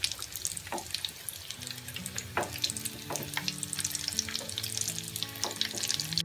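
Chicken mince cutlets fry in hot oil in a pan, giving a quiet, steady sizzle with a few light scrapes and taps as they are turned over.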